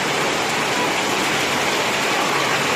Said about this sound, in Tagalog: Kahit malakas, okay lang basta taglit lang yung ulan.